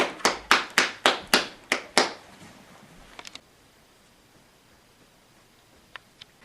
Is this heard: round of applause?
yes